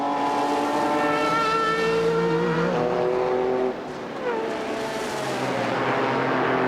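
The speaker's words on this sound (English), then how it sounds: "Lazzaro in the Ferrari still heads off Michele Alboreto in the Jost Porsche." Sports car engines roar at the 1998 Petit Le Mans endurance race as a Ferrari and a Jost Porsche battle. The cars are loud and close, pitches rising and falling as they shift gears and pass, with no talk over them.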